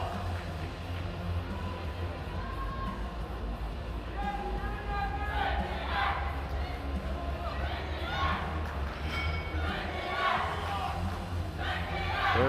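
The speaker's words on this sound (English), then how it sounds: "There goes the crowd again, chanting for Turkey." A crowd at junior arm wrestling right-arm finals chants for Turkey in rhythmic bursts of shouting over a constant hall hubbub, fairly distant and rising in the second half.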